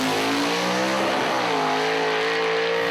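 A 1969 Chevrolet Camaro with a 515 cubic inch big block V8 making around 1200 horsepower rumbles loud and close, its deep idle shifting pitch as the throttle blips, with no talk over it.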